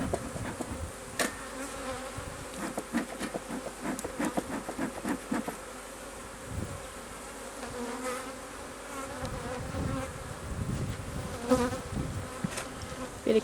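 Honey bees swarm and buzz around an opened hive as a super is added, a dense agitated hum close to the microphone with individual bees zipping past.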